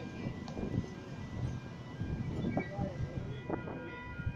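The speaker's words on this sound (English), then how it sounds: "We should have diesel locomotive 4204, Grandma, arriving back into platform number two." Diesel locomotive 4204 pulling into platform two at a suburban Sydney station, a steady low rumble and rolling rail noise close by with no talk.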